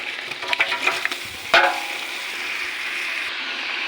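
Whole spices such as cardamom, cinnamon, bay leaves and cloves drop into hot oil in a large cooking pot along with a big batch of onions, a few clattering stirs followed by a loud, steady sizzle close by.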